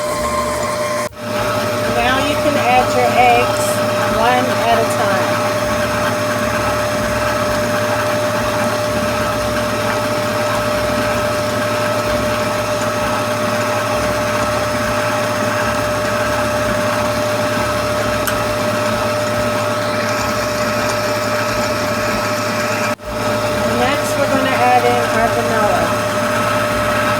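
A Drew Barrymore Beautiful 5.3 qt stand mixer beats chocolate chip cookie dough with a steady, close motor whir and a constant tonal hum that runs almost unbroken, with two brief dips.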